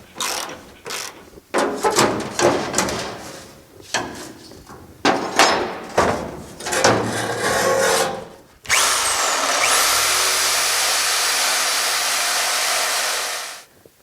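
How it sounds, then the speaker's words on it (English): Power tool cutting spot welds off the skirt of a GMC motorhome, loud close bursts of grinding and cutting stopping and starting, then one long steady whine that runs for several seconds before cutting out. "So I'm going to get started cutting some welds that are here"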